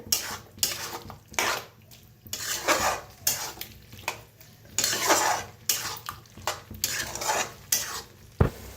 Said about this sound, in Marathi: छान मिक्स करून भाजूया.